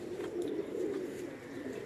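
Pigeons kept by Ustad Waseem in Lahore coo in a low, steady murmur, soft and continuous throughout, with no talk over it.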